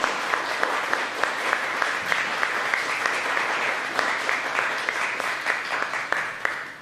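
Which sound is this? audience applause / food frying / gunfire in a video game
audience applause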